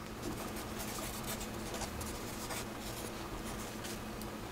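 Pen or marker writing out a logic statement, a steady scratching stroke texture that continues throughout, soft and close, with no talking.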